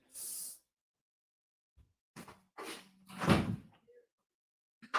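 A door opens and closes in a quiet room to let a dog back inside, giving a few separate knocks and a brief sliding scrape with silent gaps between them.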